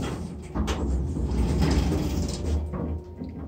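A hydraulic Ahern elevator's door interlock operates in a church building, giving a close mechanical clunk followed by a sliding, rumbling motion.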